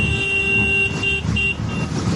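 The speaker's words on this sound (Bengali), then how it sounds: "হর্ন দিচ্ছি বেশি যাতে বিপরীত সাইডের গাড়ি কারণ অনেক কার বিপরীত সাইডের গাড়ি যাতে আমার উপস্থিতি জানতে পারে" A vehicle horn sounds on a congested mountain road in Ladakh, its sustained tones sounding in short bursts over a continuous rumble of engine and traffic, fairly loud and close, with no speech.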